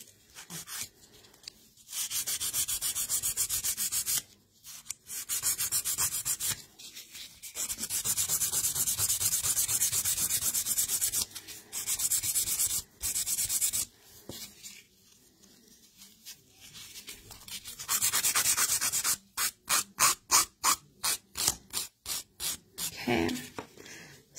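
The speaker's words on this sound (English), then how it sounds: "I'm not going to try and be extremely nitpicky with my filing, because I could honestly file forever" Close hand filing with a medium-grit file, long bursts of dry rasping strokes separated by pauses, ending in a run of short rapid strokes.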